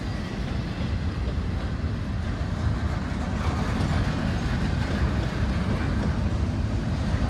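A long freight train, B-101, hauling many refrigerator cars rolls past in a steady, loud rumble of wheels and wagons, with no voices.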